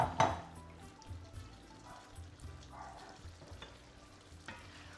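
A pot of squid stifado with grated tomato being stirred, opening with a loud utensil knock, then a low bubbling simmer with occasional scraping strokes.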